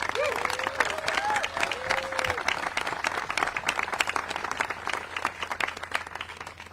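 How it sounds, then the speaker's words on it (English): An audience at a Dorchester event with Ed Markey and EPA Administrator Regan gives a round of applause, sustained crowd clapping with cheers and a whistle early on, holding steady throughout. "let's give him a round of applause"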